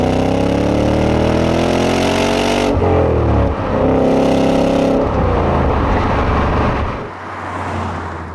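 A 2025 Ford Mustang engine pulls hard through rising revs, drops between gear changes, climbs again, then eases back near the end, loud and close with no voices.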